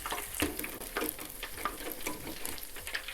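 Potato pieces frying in hot oil for homemade fries, a soft continuous sizzle with crackling bursts and occasional stirring clicks, fairly quiet and heard without talk.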